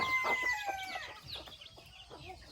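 Chickens cluck and a rooster crows nearby, overlapping calls from several birds against a faint background hum.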